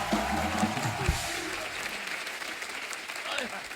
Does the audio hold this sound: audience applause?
yes